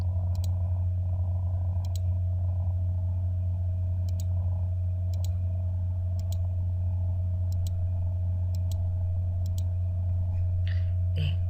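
A computer mouse is clicked while selecting part of an image in Pixlr photo-editing software, making faint, evenly spaced single clicks over a constant low electrical hum.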